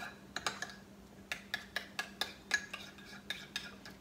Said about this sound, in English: Mix that up, kind of make it so it's kind of messy or liquidy or really runny.